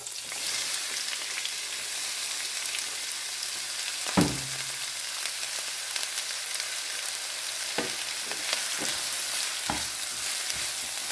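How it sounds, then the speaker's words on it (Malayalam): Chopped onion, garlic, ginger, green chilli and curry leaves sautéing in coconut oil, a continuous close sizzle broken by a few sharp scrapes and stirs of the spoon in the pan. "നമുക്കിതൊന്ന് ബ്രൗൺ കളറാവുന്നത് വരെ ഒന്ന് വഴറ്റിയെടുക്കാം"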